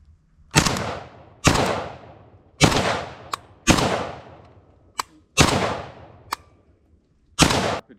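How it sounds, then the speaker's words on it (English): A suppressed rifle fired rapidly outdoors on a Florida hog hunt: seven sharp muffled shots at an uneven pace, each with a short decaying tail, with small clicks between some of them. "Rapid fire."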